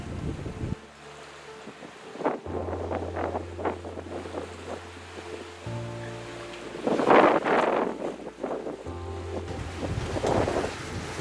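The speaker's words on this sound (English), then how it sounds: "The squall's just about upon us." A squall sweeps over a sailboat at sea, gusting wind buffeting the microphone in uneven surges, with a low steady hum running beneath.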